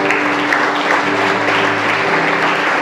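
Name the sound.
congregation applause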